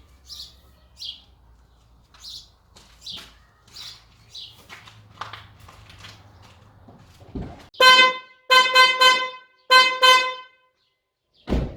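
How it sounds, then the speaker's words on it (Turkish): A snail-type car horn on a Renault Symbol sounds several times in short, loud blasts near the end, after quieter clicking and rattling sounds. "Evet arkadaşlar sesi de bu şekilde. Kornamız sağlıklı bir şekilde çalışıyor."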